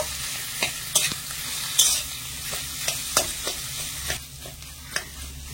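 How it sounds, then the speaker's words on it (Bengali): Boiled mashed potato being stirred into a sizzling pan mixture, with repeated scraping and knocking strokes of a spoon over steady frying hiss, close and clear with no talk. "তো এবার আমি এই আলু সেদ্ধটা দিয়ে দেবো। ভালো করে মিশিয়ে নেব।"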